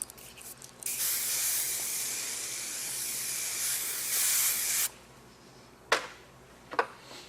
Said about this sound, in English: I'm going to finish off with a little bit of hairspray to stay firm from Wella.